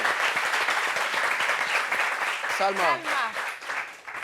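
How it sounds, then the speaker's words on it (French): An audience at a meeting on workplace sexual harassment breaks into continuous applause, with a voice briefly calling out over the clapping partway through. "Applaudissements."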